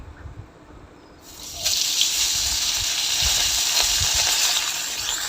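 Fish hits a hot kadai and a bright, loud sizzle of frying oil starts partway through and continues steadily to the end, with faint clinks of handling before it.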